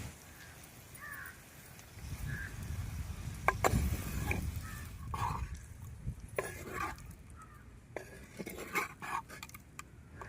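Paneer pieces stirred gently in a pan for a paneer curry give soft intermittent scrapes and clinks of a spoon against the pan, with a few sharper knocks and faint background birds.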